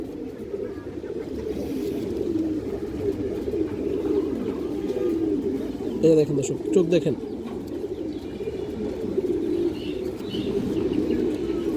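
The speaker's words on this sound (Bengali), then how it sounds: "অনেক সুন্দর একটা মাদি কবুতর দর্শক" Pigeons coo steadily in a loft of high-flying breeds, including a female with a black tail and dark-rimmed eyes, a continuous low murmur running alongside someone talking throughout.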